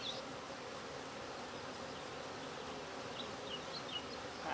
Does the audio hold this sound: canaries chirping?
no